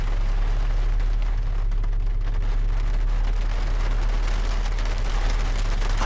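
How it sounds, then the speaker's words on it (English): Steady rain in the video game Road 96 pours as a constant, even hiss under a low hum, with no talking. "It is raining."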